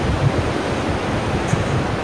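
Steady roar of ocean surf rolling onto Melasti Beach in Bali, a continuous broadband wash with small surges, fairly loud and unbroken, no voices.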